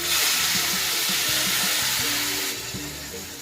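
Hot water poured into a pan of fried brinjal, producing a loud, close sizzle and hiss with bubbling that eases slightly toward the end.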